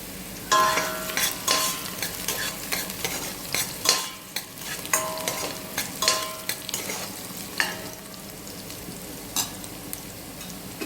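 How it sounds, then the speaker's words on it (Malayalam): Small carrot pieces are stir-fried in a pan for fish biryani: a loud, continuous sizzle with frequent clattering spatula strokes and scrapes against the pan, close up and without talk. "ഇനി ഇതിലേക്ക് ഞാൻ ഒരു വലിയൊരു ക്യാരറ്റ് ചെറിയ പീസുകളായിട്ട് കട്ട് ചെയ്ത് വെച്ചിട്ടുണ്ട്, അതും കൂടിയും ആഡ് ചെയ്ത് കൊടുക്കാം"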